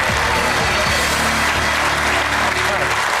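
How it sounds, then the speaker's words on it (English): Audience applause for a winner named Julian Peck at a Big Ideas stage event, dense and steady throughout, with a low musical or hum layer underneath and some talk mixed in. "Big round of applause for Julian Peck."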